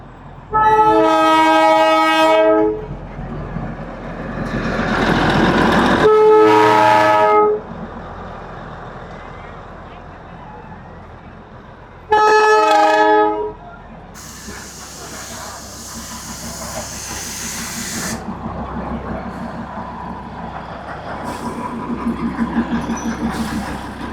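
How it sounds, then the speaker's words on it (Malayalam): A Darjeeling toy train steam engine turning around in Sikkim, India, sounds three loud whistle-horn blasts between stretches of hissing steam and chuffing, with a bright steam burst near the middle; voices murmur faintly in the background. "എഞ്ചിൻ അപ്പുറം പോയി തിരിച്ചിട്ട് വരിക."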